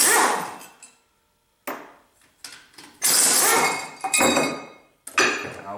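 A heavy metal mounting bar dropping off an Atlas Copco LE20 air compressor during a teardown, giving a loud clanging impact followed by several more metallic clanks and rattles as it settles, close up with no talking.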